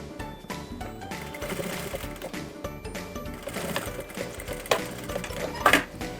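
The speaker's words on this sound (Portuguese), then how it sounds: "E aqui eu vou passar com um pé de máquina." A sewing machine runs in quick bursts while stitching a lined fabric bag, with a fast rattling hum, brief pauses and a few sharper clicks near the end, fairly quiet and close.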